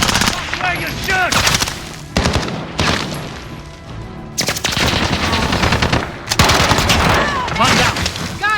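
Rapid automatic gunfire from an Uzi in a first-person video game firefight, with long, loud bursts of fire broken by brief pauses, and voices calling out over the shooting.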